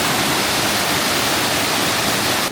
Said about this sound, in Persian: نگاه کنید اینجا آبشار هستش. شهر رودخونه خروشان هستش.